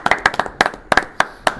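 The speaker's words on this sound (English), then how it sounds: "round of applause for John Joe" A small group in a pub gives a short round of applause for a guest on a post-match football chat show, a handful of distinct, close, sharp claps in an uneven rhythm, without talk.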